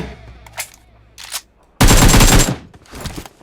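Gunfire in PUBG Mobile: a few scattered single shots, then a loud sustained automatic burst of about seven tenths of a second, followed by quieter shots, with no talk.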